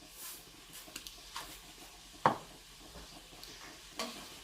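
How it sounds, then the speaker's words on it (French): Chicken filling for brick pastries sautéing in a frying pan, a soft low sizzle broken by scattered stirring scrapes and one sharper clack of utensil on pan, fairly quiet and close. "Je fais bien sauter à la poêle."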